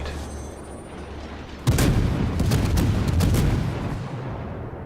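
Warship gun salvos in World of Warships: after a quiet hum, a sudden loud volley of heavy naval cannon fire erupts, followed by a rapid series of further booming shots.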